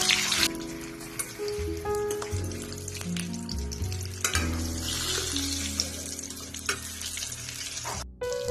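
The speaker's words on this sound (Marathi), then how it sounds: "मंद आचेवर हे मिरच्या तळून घ्या." Stuffed thick green chillies frying in two spoons of oil in a kadai over low heat, a continuous crackling sizzle with occasional scrapes and clinks of the spoon.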